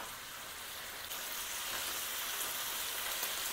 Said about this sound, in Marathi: गॅस थोडा मोठा करायचा आणि व्यवस्थित फ्राय करायचा